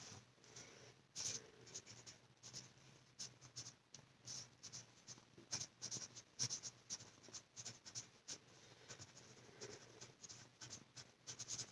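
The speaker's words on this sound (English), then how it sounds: "And I want to write that down." A pen scratching across paper in short, steady strokes with small taps and pauses, quiet and close with no talk.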